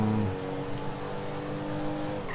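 A car in Grand Theft Auto cruises along with a steady engine drone, a brief louder rev at the very start settling into an even hum.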